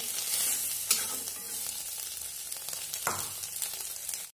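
Soybean chunks fry in a hot pan with a steady broadband sizzle, broken by two sharp stirring scrapes near the start and toward the end, then the sound cuts off abruptly.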